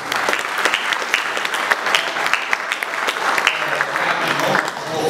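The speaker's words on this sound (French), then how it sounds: "De là, on doit applaudir nos professeurs." An audience applauds the teachers at a ceremony in Larache, Morocco, with loud, continuous clapping from a crowd that swells and holds throughout and no talk over it.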